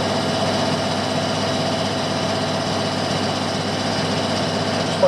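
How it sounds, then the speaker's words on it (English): An air compressor runs steadily in a workshop during a motorcycle restoration, giving a continuous droning hum at moderate loudness with no talk over it. "just wait for the compressor to stop"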